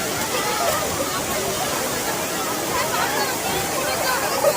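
Steady hiss of a waterfall on a day trip between Bangalore and Mysore, a constant broadband rush with faint crowd babble mixed in, moderately loud and unchanging throughout.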